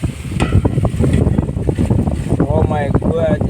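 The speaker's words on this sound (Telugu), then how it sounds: "ఏమి గాలి" Strong outdoor wind buffets the microphone in gusty, rumbling surges, while people talk over it.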